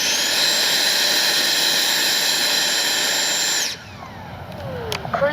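An FMS Avanti S 90mm electric ducted fan RC jet screams past with a loud, steady high-pitched turbine-like whine, then the sound abruptly drops away to a fading whoosh as it recedes.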